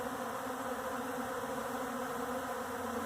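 Honey bees buzz steadily while being fed flour, a dense, continuous hum with no breaks, close and fairly loud throughout.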